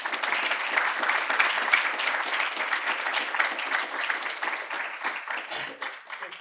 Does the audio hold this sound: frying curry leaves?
no